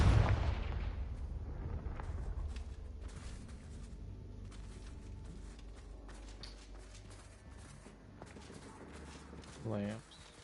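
A Confringo fire spell blast in Hogwarts Legacy, opening with a loud deep explosive boom that decays into rumbling game ambience with faint scattered crackles, a brief tonal game effect near the end.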